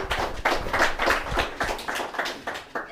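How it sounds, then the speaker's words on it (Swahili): An audience at a school journalism club's live radio show claps after a cyberbullying poem, the applause fairly close and lively in a quick, uneven rhythm. "Makofi."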